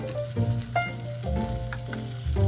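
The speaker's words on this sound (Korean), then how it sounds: "냄비 위에 올리브유를 두르고 준비된 편마늘을 넣고 볶습니다." Sliced garlic frying in olive oil in a pot, with a steady close sizzle and crackle and occasional stirring clinks and scrapes throughout.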